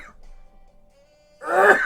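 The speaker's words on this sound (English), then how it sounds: "Oh, I'm gonna sneeze" A single loud sneeze bursts out near the end after a quiet stretch with a faint hum, right in the middle of a hot sauce tasting.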